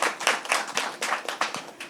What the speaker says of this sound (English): go ahead, clap it up for her